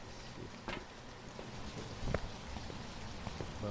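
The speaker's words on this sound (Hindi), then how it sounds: "बारिश हो रही है यहाँ पे बहुत तेज़ से।" Heavy rain falling in the horror video game Phasmophobia, a steady soft wash of patter with scattered brief knocks and clicks, fairly quiet and continuous.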